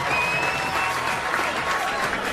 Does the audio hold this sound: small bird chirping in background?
no